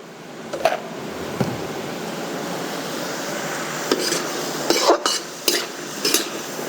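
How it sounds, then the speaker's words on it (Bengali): Ivy gourd (kundri) cooking with sesame paste is stirred in a pan, a faint sizzle beneath repeated close scrapes and clinks of a spatula on metal, clustered toward the end. "এভাবে এটা অল্প সময় নাড়াচাড়া করে রান্না করে নেব"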